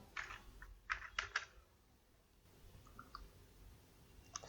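Computer keyboard keystrokes entering a value while drafting in SolidWorks: a few quick bursts of close clicks, a short cluster followed by a pause and then a single faint tap at the end.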